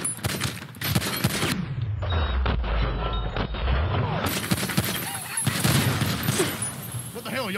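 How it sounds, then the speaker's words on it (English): Gunshots and explosive bangs in a GTA roleplay game, a loud continuous barrage with a deep rumbling boom midway, mixed with other game noise and people talking. "We got shots fired."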